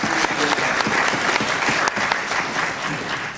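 Steady, dense audience applause at a library seminar hosted by the National Library of Jamaica, a full room clapping continuously and loudly with no pause.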